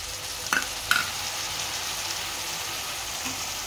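Moth beans (matki) tipped into a frying pan and stirred, two quick clinks of a spoon early on over a continuous soft sizzle, close up with no talking.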